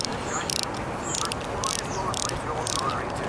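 Ratchet wrench with a 1/2 inch socket tightening a bolt during reassembly of a 1976 Mercury inline-six 1150 outboard, giving several short bursts of rapid clicking spaced about a second apart, close and moderately loud over a steady background hiss.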